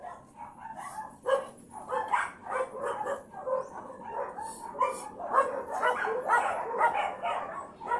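Several dogs bark and yip repeatedly in an uneven, overlapping chorus, moderately close and fairly loud, with a few whimpering notes mixed in and no one speaking.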